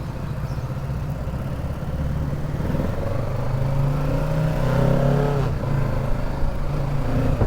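A Kawasaki Ninja 650 2023 motorcycle engine drones and climbs in pitch as the rider accelerates, with steady wind rush over a continuous loud engine note, heard from on the bike.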